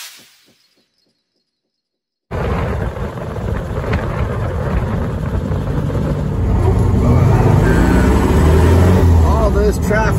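Inside an old Volkswagen Beetle stuck in traffic, a dense steady road and engine rumble with wind noise rises after a brief near-silent opening, with passing vehicles blending into a constant roar.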